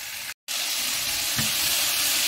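Chicken and peppers sizzle steadily in a frying pan, a loud, close, continuous hiss that cuts out briefly near the start, with a faint stir or scrape partway through.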